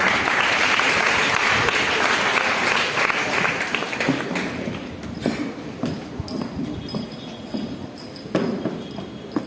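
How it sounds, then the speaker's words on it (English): An audience at a school graduation ceremony applauds the maths department, dense and sustained clapping at first, then tapering off into scattered claps with some murmuring. "give the maths department a round of applause"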